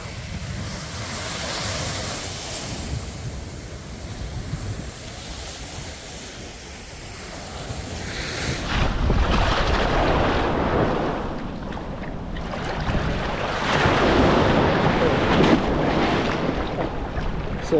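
Gentle ocean waves wash onto a beach in Tayrona National Park, Colombia, a soft continuous rolling surf with repeated swells and breaks, mixed with wind buffeting the microphone.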